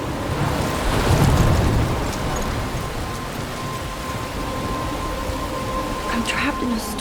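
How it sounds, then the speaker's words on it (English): Steady rain and a rolling thunderstorm rumble from the video game Life Is Strange, a dense wash of rainfall with low thunder swelling early, while a voice speaks faintly beneath. "I'm trapped in a storm?"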